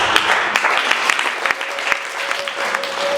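A church congregation claps together during a worship service, a dense, loud burst of applause lasting a few seconds with sharp individual claps standing out.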